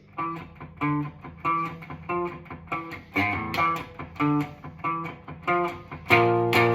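A slow clean electric guitar riff picks out short, muted notes in a steady rhythm, with a few louder open notes ringing toward the end.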